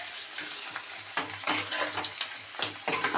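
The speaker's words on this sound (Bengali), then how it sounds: "এবার পেঁয়াজটা একটু লাল লাল করে ভাজা হোক, মানে একদম ব্রাউন কালার হোক" Onions fry in a pan for a Bengali chicken curry, a constant close sizzle broken by repeated scraping stirs, with no voices.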